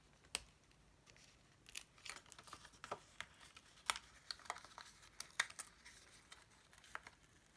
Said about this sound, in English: now let's cut the kangaroo out.